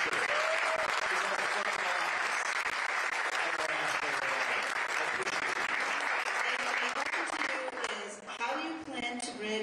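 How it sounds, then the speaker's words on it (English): A crowd at a political campaign event applauds for a teacher, steady dense clapping throughout with voices and a speaker audible underneath toward the end. "Let's give Loli a round of applause for being a teacher"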